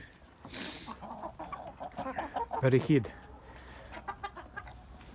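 Laying Czech Leghorn hens cluck and murmur close by, with one louder burst of clucking in the middle, while a person speaks briefly.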